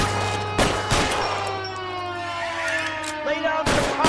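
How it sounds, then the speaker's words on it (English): Rapid video game gunfire crackles in dense bursts throughout, with sharp loud shots near the start and end, layered over a steady tonal hum and sweeping synth-like tones. "Lay down some covering fire."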